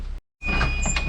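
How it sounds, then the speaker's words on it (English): A big heavy hotel door in Prague swings open after a brief silence, followed by a broad, rumbling rush of room tone with a steady high whine and some faint clatter, close and fairly loud. "So first the big heavy door."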